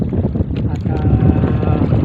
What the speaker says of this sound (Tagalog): palakas na ng palakas ang hangin mga idol at uh, yung alon mga idol palaki na rin ng palaki